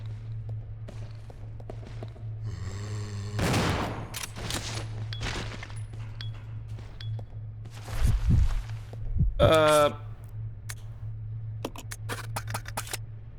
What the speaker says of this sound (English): shoot faster, Rebecca!